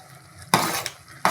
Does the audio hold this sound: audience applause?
no